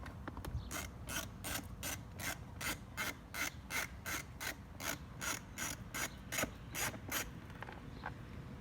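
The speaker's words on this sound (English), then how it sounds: "Next, you remove this bolt from the side." A ratchet wrench loosens a side bolt on a Yamaha YZ65 motorcycle, producing a steady, rhythmic series of close clicking strokes over a constant rubbing background.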